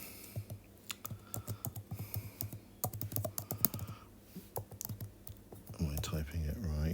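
Rapid, uneven clicks of typing on a computer keyboard, close up, in quick bursts with short pauses, followed by a faint murmuring voice near the end.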